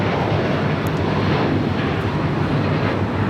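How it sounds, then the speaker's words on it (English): Qatar Airways Airbus A350-1000 jet departing LAX runway 25 left on its takeoff roll toward Doha, a loud steady broadband engine roar holding throughout with no voices. "742 taking off to Doha on the A350 1000."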